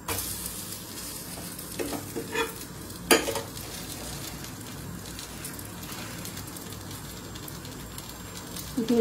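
Mini pizza frying slowly on low heat in a pan, a steady soft sizzle up close, broken by a couple of sharp scraping clicks as it is stirred and turned.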